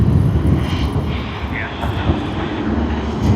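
A Cathay Pacific airliner at Sydney Airport produces a steady, low engine rumble with a constant whining wash over it, heard continuously from a distance.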